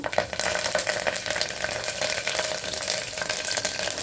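Cumin seeds and curry leaves sizzling in hot oil in a pressure cooker, a steady close crackle and hiss throughout.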